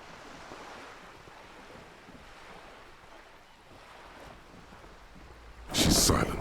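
Wind flaps a sail overhead in the video game Disco Elysium, a low rushing gust ambience with a louder burst of flapping near the end.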